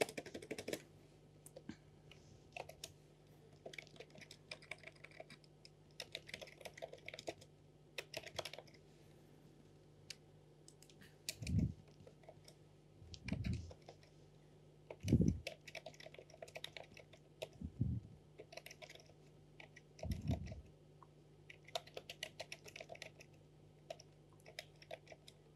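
Computer keyboard typing as comments are written in MATLAB during a lecture, a steady close run of quick key clicks with a few heavier thumps, no talking over it.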